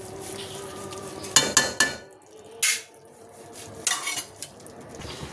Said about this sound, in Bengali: এদিকে ঝটপট লেবুটাও কেটে নিলাম।